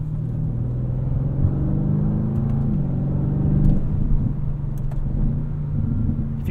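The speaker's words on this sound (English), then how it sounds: "A few burbles out of the exhaust there too." A 2024 Audi RS7 drones steadily from inside the cabin with a low engine rumble, broken by a few brief crackling burbles from the exhaust partway through.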